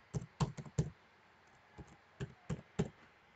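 A password is typed on a computer keyboard to set up voter registration access: about nine soft, close keystrokes come in small irregular clusters with short pauses, quiet and without speech.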